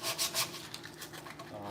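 Hand sanding a wooden rocking horse part with 120 grit sandpaper: a few rough rubbing strokes, louder at the start, then lighter continuous scratchy friction close by.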